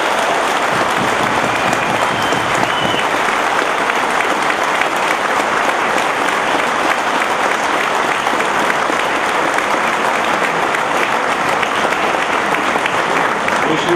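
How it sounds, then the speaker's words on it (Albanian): A large audience at a municipal mayor's meeting with residents in Vrapčisht gives a big, loud round of applause, continuous and dense for the whole stretch with crowd noise mixed in. "ta përshëndesni me një duartrokitje të madhe"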